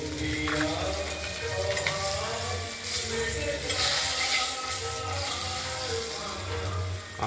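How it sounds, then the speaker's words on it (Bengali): Pieces of katla fish fry in hot oil with a continuous bubbling sizzle, joined by occasional scraping and clinks as they are turned and lifted out, with faint voices in the background. "মাছগুলো ভাজা হয়ে গেছে, আমরা এক এক করে তুলে নেব"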